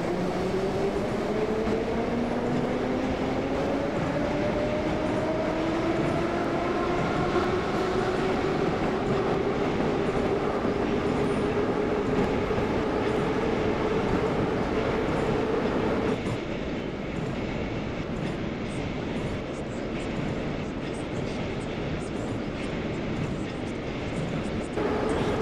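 A Moscow metro train in the Trainz 12 simulator rolls along the Zamoskvoretskaya line, with a steady loud rumble of wheels and rising and falling motor whine that drops away into quieter running partway through.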